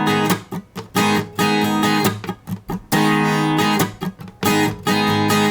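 Acoustic guitar plays the strumming riff from a song at a slow tempo, with rhythmic strummed chords and short muted gaps between phrases, close and clear with no talking.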